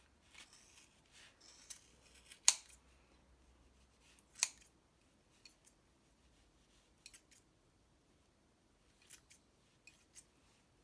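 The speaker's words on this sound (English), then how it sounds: "the first step in trimming a dense or orb Pom Pom is cutting the Pom Pom open" Scissors snip through the yarn loops of a dense pom pom in a quiet room, with a few sharp close cuts and softer scattered snips and rustles between them.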